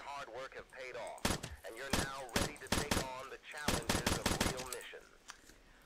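Rapid bursts of gunfire from the video game Entities crack out in quick rhythmic volleys, loud and close, with voices talking in between and over the shots.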